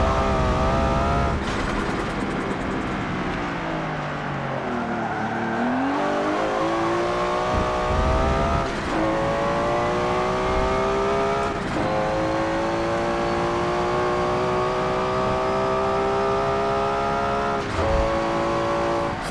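Nissan GT-R R34 engine in Forza Motorsport 7 heard from the interior, a loud continuous droning roar that climbs through the revs, drops on shifts and climbs again over and over, with no talking.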